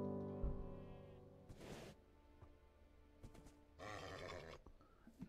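Minecraft horse neighing in a video game, a tonal whinny at the start followed by short noisy snorts and clip-clop bursts, fairly close and clear with no talk.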